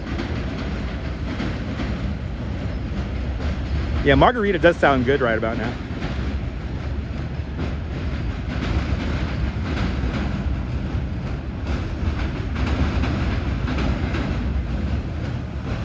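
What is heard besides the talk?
trains passing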